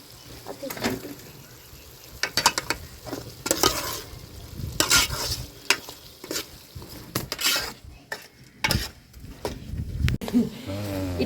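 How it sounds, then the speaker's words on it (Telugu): Turmeric and tomatoes being stirred into chicken curry in a pan, with a spoon scraping and clattering against the metal over a steady close sizzle, the strokes irregular and busy throughout. "ఇట్లా పసుపు వేసి కలిపిన తర్వాత టమాటా పండ్లు కూడా వేసుకుందామండి ఇప్పుడు."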